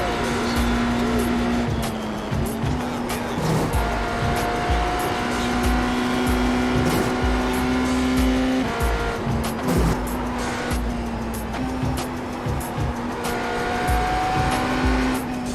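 An IMSA GTE race car in iRacing at the 24 Hours of Le Mans, its engine droning loud and steady with shifting pitch as tires squeal through corners, continuous for the whole stretch.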